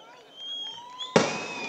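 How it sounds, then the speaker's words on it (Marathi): Firecrackers go off at a political rally in Ratnagiri: one sharp, loud bang bursts out after a stretch of quieter tonal background sound, with crowd noise lingering afterward. "ते फटाके थांबवा ना आता."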